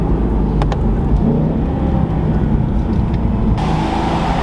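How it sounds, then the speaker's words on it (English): Twin turbochargers on a 600 hp Mercedes E63S AMG wagon spool up under a loud, steady engine drone inside the cabin during a test drive, with a faint rising whine over the rumble. "Listening to the turbo."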